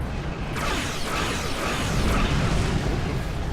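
An explosion in the space game Star Trek Online rolls out as a sustained booming rumble with whooshing bursts, swelling louder partway through and holding steady, with no talk over it.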